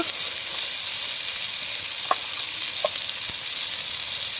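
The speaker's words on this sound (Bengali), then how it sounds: "লঙ্কা গুঁড়ো লবণ আর একটু জল দিয়ে ভালোভাবে মশলাটাকে কষিয়ে নেব" Tomato and turmeric spice paste frying in a pan for chicken wing kosha: a loud, continuous close-up sizzle with a couple of faint clinks.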